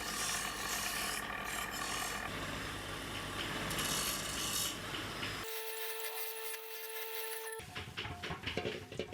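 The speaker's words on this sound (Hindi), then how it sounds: "इसके बाद इसकी सतहों को मज़ीद रगड़ा और कार्व किया जाता है।" A cast aluminum hawk has its surface rubbed and filed by hand, producing dense, continuous rasping scrapes up close, broken briefly by a steady hum before irregular scraping strokes resume.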